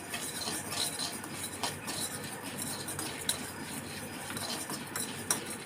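Mustard seeds and whole spices being stirred while they dry-fry in a pan for a sweet star fruit pickle, a steady scraping and rattling that stays close and moderately loud, with a few sharp utensil clicks on the pan.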